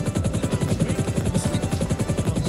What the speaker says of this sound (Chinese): CH54 是美国赛考斯基公司研制的双发单桨起重直升机